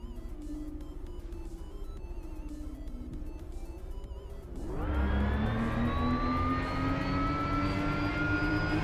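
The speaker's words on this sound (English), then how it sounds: "It's not like a typical engine would sound. It's more like it's flat 6." A flat-six engine in a Shitbox Cup race, first a low idle, then a sudden rise into a loud, sustained whine whose pitch climbs steadily as it revs up.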